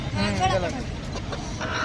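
Chickens at a village poultry and livestock market in Ahmedpur give brief clucks amid a close crowd babble, with people talking nearby throughout.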